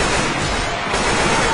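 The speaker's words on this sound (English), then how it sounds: "I will never stop shooting you." Continuous, loud gunfire in the co-op zombie shooter Left 4 Dead, a dense unbroken burst of rapid shots filling the whole moment with no gaps.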